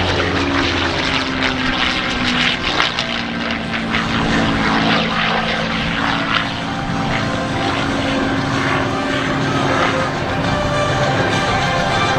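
A loud, continuous engine howl from a P-51D propeller plane's 12-cylinder, 1,650 cubic inch Merlin engine at an airshow, droning steadily and close for the whole stretch with a rough, throaty roar.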